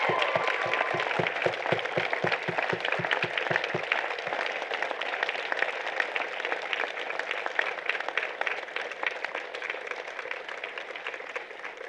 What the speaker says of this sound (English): I want you to lead us in a round of applause for your parents